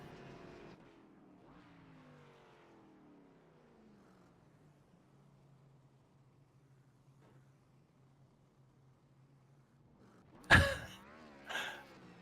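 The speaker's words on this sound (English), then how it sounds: "the 29 is doing burnouts at start finish" A #29 race car does burnouts at the start/finish line of Bristol in a Cup Series racing video game: a falling engine drone settles into a steady low hum, then two sharp, loud roaring bursts close together near the end.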